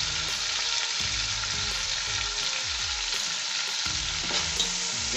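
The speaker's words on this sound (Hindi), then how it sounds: "टमाटर को थोड़ा सा हम भूनेंगे अभी।" Tomatoes frying in a pan for chicken pulao, a loud steady sizzle close up with spatula scrapes and stirring clatter running through, no voices.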